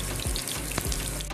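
Chicken burger patties fry in a pan over a medium-low flame, giving a continuous close sizzle and crackle with brief spattering pops.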